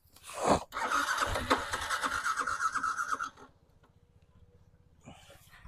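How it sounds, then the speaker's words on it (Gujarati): A second-hand Yamaha R15 V2 motorcycle is started, with a burst of noise, then a few seconds of rough starter cranking, then a low, pulsing idle that fades under a faint closing sound. "એન્જિન સારું છે તમને ચાલુ કરીને પણ બતાવી દઈશ ગાડી"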